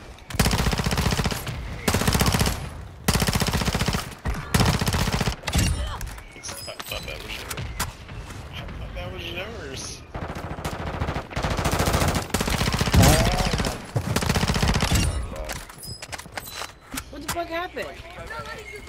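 Video game gunfire comes in repeated long bursts of rapid automatic shots, loud and close, broken by short gaps. Players talk over it throughout.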